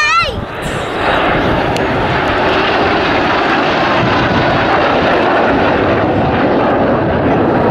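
Red Arrows jets tightening a turn during an RAF Cosford air display, their engines a loud continuous roar with a brief rising whine at the start, steady throughout with a commentator talking over it.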